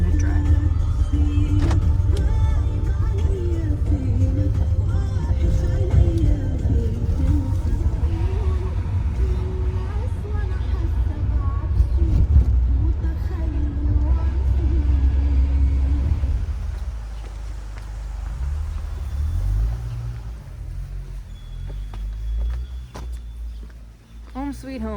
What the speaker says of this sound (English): Taking a taxi back to Douma.